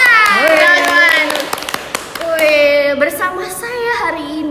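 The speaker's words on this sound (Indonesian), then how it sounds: "Tepuk tangan, teman-teman." Hands clap in quick sharp bursts among a group, heard close and mixed in with a voice and other talking over the top.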